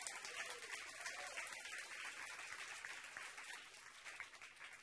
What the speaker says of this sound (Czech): Já myslím, že tohle si zaslouží potlesk.